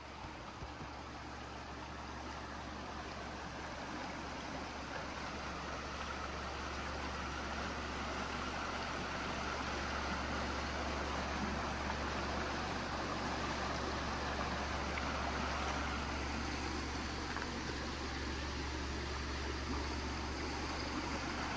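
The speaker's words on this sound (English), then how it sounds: "this river is flowing through" A river flowing through Swedish countryside forest, a steady broadband wash of moving water holding at an even level throughout, with a faint low hum underneath and no talking.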